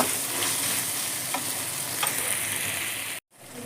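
Tomatoes with a half spoon of turmeric sizzle steadily in a pan while being stirred, with soft scraping strokes over the continuous fry, close and alone.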